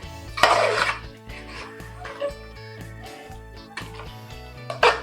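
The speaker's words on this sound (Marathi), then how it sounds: "व्यवस्थित मिक्स करून घेऊयात म्हणजे प्रत्येक पीसला व्यवस्थित मसाला हा लागलाच पाहिजे" Mutton pieces being stirred with spices in a metal pot for an Agri-style mutton dish: scraping clinks and knocks of the spoon against the pot, with louder bursts at the start and end over a steady hum.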